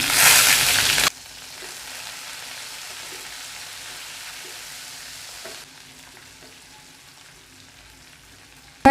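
A loud burst of hissing sizzle as cumin, fennel, onion, curry leaves and dried chilli hit hot oil, then a softer steady crackle of frying that continues with faint stirring.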